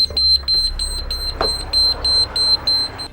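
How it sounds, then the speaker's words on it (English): A high electronic alarm beeps repeatedly in short, evenly spaced pulses, loud and close, with some mechanical rumble underneath: a train door emergency release alarm. "Now as soon as you do this, an alarm will sound."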